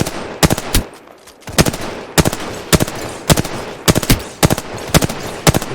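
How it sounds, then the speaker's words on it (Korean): Rapid bursts of automatic gunfire in Apex Legends, sharp close shots repeating in quick clusters with brief pauses between volleys. "적에게 사격 개시"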